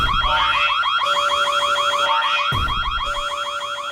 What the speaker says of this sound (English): fans were met with the piercing screech of the Right to Censor alarm